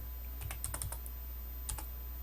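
Computer keyboard keys pressed during 3D modeling work in Tinkercad, a quiet quick cluster of clicks followed by a pause and two more taps, close and alone.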